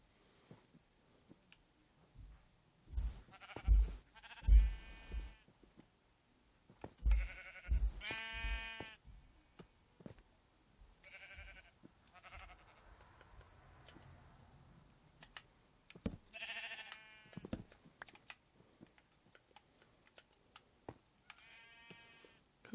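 Minecraft sheep bleat repeatedly in short, separate bursts with quiet gaps between them, the calls clear and alone against a near-silent background.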